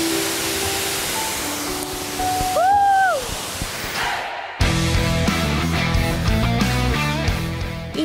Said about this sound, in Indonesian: Gimana ya sensasinya dengan cipratan air terjun?